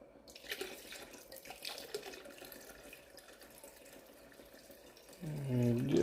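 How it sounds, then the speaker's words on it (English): Hot tap water runs steadily from a faucet into a canning pot of tomatoes, a continuous rushing flow that swells louder and deepens in pitch near the end as the pot fills. "now adding some more water to it so it goes over the top."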